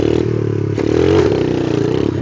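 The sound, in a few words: motorcycle engine sputtering as throttle fails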